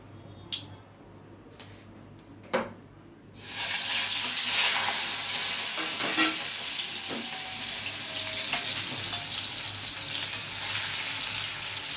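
Asafoetida dropped into hot oil for a Gujarati vegetable dish bursts into a loud, steady sizzle after a few quiet clinks, the frying hiss continuing evenly close by.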